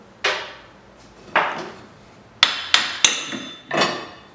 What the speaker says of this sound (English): Typically a little tap on that takes the drive axle.